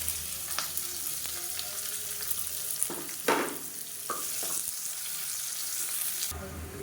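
Long-sliced large onions fry in hot oil in a pressure cooker, giving a steady close sizzle with a few scraping stir sounds and clinks, and no talking.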